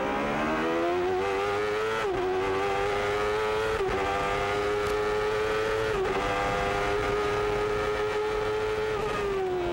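A Chevrolet-powered IndyCar race car screams around WeatherTech Raceway Laguna Seca in the 1993 Makita 300, its high engine note rising and dipping with each gear change and lift through the corners, loud and continuous with no talk.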